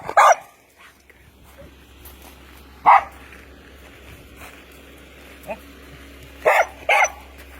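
A puppy barks in four or five sharp, separate bursts spread across the stretch, fairly close, with people's voices around it.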